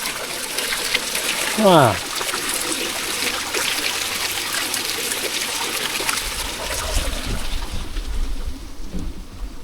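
Water pouring out of a pipe into an old mine pond in woodland game lands, a steady broadband rush and trickle that continues throughout, fairly close, with a short exclamation and a brief bird-like chirp early on.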